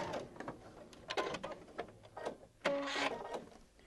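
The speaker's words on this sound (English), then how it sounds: "By sewing in the well of the seam, crease marking, and then stop stitching at the crease mark." A sewing machine stitches bias binding onto a fabric potholder, producing short bursts of rapid mechanical ticking with brief pauses, close and fairly quiet.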